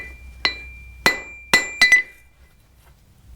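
A blacksmith hammers hot iron on an anvil to point a nail, giving sharp ringing metallic strikes: five blows, the last two quick together, close and loud, each with a bright ring fading into near silence.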